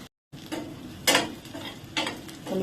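Onions frying in a pan, stirred in a few distinct scraping strokes over a soft continuous sizzle, after a brief silence at the start.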